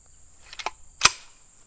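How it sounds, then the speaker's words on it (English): Cheap eBay pistol-style golf ball launcher fires at a Pringles can, one sharp close pop after a couple of faint clicks, set against a quiet outdoor background with a steady high insect-like whine. "we're going to be shooting a can of Pringles, sour cream and onion."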